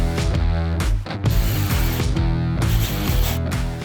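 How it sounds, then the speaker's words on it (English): A ratchet tightens the fasteners of a Rokblokz mud flap kit on a 2019-or-later Chevy Silverado 1500, giving rapid, loud, continuous clicking with two brief pauses. "Now we'll fully secure all fasteners."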